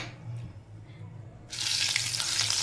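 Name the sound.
hot oil with turmeric and salt sizzling in wok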